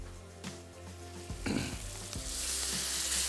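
White urad dal going into oil with spices that were fried first, giving a steady bright sizzle with a few stirring scrapes and clinks, close and loud.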